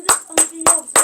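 Four sharp hand claps at a steady, unhurried pace in a lecture setting, each crisp and close, with short quiet gaps between them and no voices.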